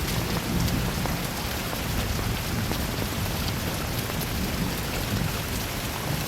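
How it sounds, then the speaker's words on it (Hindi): Steady rain in a Hindi film scene, a dense continuous hiss and patter with a low rumble underneath, loud and unbroken with no voices. "बारिश हो रही है, बीमार हो जाओगे।"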